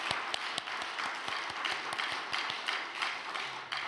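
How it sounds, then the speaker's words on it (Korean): Applause from a congregation at an overnight church prayer service, a steady wash of many hands clapping at moderate level with a few sharper individual claps standing out, continuing evenly throughout. "우리 이 그리운 마음을 담아서 어머님께 다시 한번 박수를 보내드리면 좋겠습니다"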